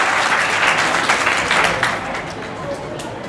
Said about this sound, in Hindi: मैं स्पेशली यंग बच्चों को चाहूँगा कि वो अपने लिए तालियां ज़रूर बजाएं